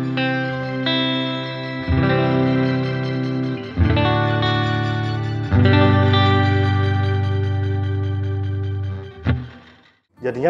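An electric guitar through a TC Electronic Fluorescence shimmer pedal with reverb off and shimmer at maximum: sustained chords ring out with wavering, octave-shimmering overtones, struck anew about every two seconds and decaying, loud and close.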